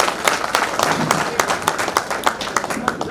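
Audience applause welcoming the chief guest, a government minister, at a reception in Udaipur, with dense rapid clapping throughout and a speaker's voice faintly mixed in.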